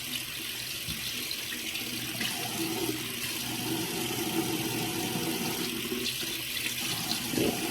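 Water running steadily from a tap into a sink while a face is rinsed, a continuous close splashing hiss with small irregular splashes throughout.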